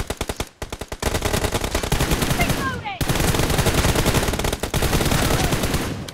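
Rapid automatic gunfire from the BGMI battle royale game, dense bursts that run almost without pause, loud and close, with a short gap before the firing resumes.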